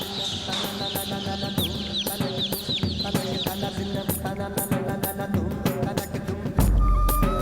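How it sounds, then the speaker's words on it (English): A flock of Giriraja chickens, a traditional Indian breed raised at a veterinary college in Bangalore, clucks busily and close up, with overlapping calls and a brief low rumble at the end. "helping to tackle rural poverty with a traditional breed of chicken"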